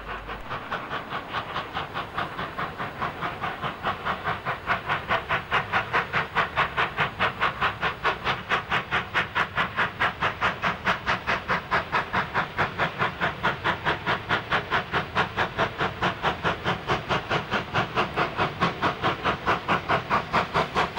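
Australian steam locomotive 5126 in New South Wales hauls a special train single-handed out of Woolbrook, its exhaust beating in a strong, steady, rapid rhythm that grows louder and more even against a continuous hiss and rumble.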